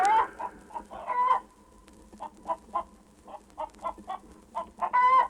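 A hen clucks repeatedly in a steady, pulsing rhythm, close by, with a few higher squawks mixed in.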